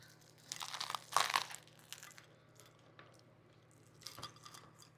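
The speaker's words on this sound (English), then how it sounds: "You hear that crunch?" A few crisp crunches come up close as someone bites into a buttery toasted meatball sub with provolone and fresh mozzarella, followed by quieter chewing and a faint later crunch, with no talking.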